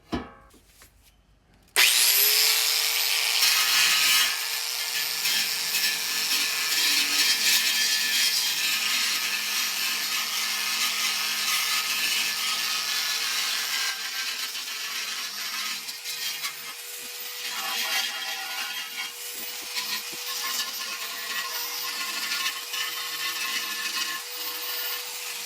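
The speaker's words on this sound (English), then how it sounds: "let's start the outside, see how this little mini belt sander does" A mini belt sander working the metal of a Triumph Spitfire battery box, starting abruptly after a brief quiet moment and then running as a loud, continuous abrasive whine and rasp with slight shifts in pressure.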